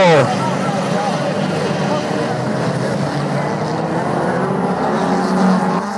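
Autocross race cars over 1600 cc in a contested championship final in Arteixo, Galicia, a continuous loud roar of engines blending on a dirt circuit, steady and dense throughout with a brief swell near the end, under a commentator's voice.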